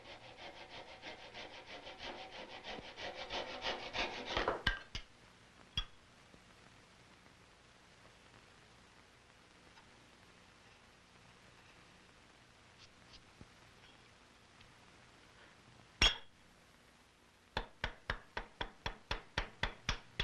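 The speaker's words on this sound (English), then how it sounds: "Keeping the chisel very sharp is important while cutting hard maple on the end grain." A sharp chisel works hard maple end grain on a handmade gun stock, first in a rapid run of scraping cuts, then quiet, then a single sharp knock and a closing burst of evenly spaced short cuts, close and fairly faint.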